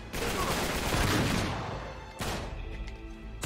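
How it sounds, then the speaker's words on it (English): Shotgun blasts in Uncharted 3's London Underground, a loud burst of overlapping booming shots followed by a second sharp blast with a trailing echo. "shotguns suck for shooting people from far away"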